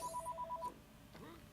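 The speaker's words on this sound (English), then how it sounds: "The phone keeps ringing." A telephone rings in the room in a quick repeating electronic trill of about six pulses, fairly faint, then stops, followed by quiet background with a brief sweeping sound.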